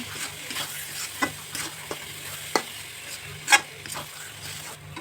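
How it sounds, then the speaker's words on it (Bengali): Duck meat curry with spices and grated coconut is stirred in a hot pan, a steady sizzle under repeated scraping strokes of the spoon, close and fairly loud, with no talking. "এখনকার নারিকলটা দিয়ে নেড়ে ছেড়ে নিব"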